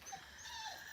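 A spaniel whimpers with thin, high whines through the second, sitting in a gateway while mesh is laid over a homemade gate; no one talks.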